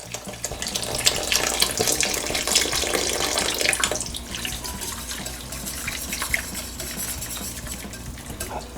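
Water runs steadily from a tap into a pot, a continuous splashing stream that softens partway through as the level rises.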